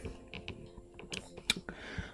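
Quiet, irregular clicks and taps of typing on a computer keyboard, close and faint, with no talking.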